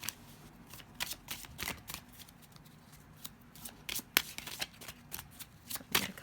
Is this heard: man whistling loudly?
no